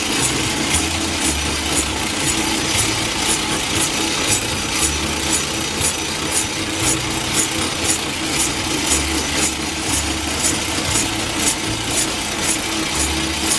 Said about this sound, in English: It's removing stock. Taking the shaft down to the size that I need it to be.